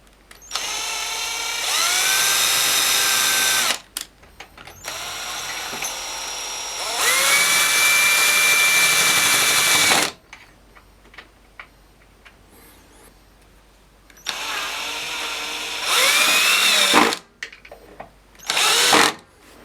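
Power drill whirring in bursts while fixing a shelf bracket: a long run, a second long run, then two shorter bursts near the end, with quiet handling noise between.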